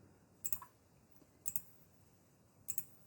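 Three faint, crisp computer mouse clicks spaced about a second apart, each a quick double tick, in a quiet room with no talking.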